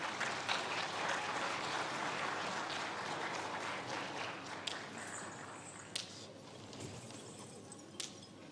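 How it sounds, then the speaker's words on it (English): Indoor audience applause at a Sarawak Dayak graduates' association gala, a dense wash of many hands clapping steadily for several seconds, with scattered sharper claps and faint crowd noise as it gradually thins. "a round of applause for the choral speaking team"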